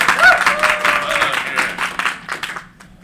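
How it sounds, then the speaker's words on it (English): A crowd's applause and cheering greet a speaker coming on stage, a dense burst of clapping that gradually thins and fades out over three seconds. "Tesla walks up to a thunderous ovation."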